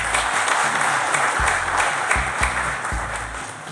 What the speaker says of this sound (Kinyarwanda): Ngira ngo kwikomera amashyi.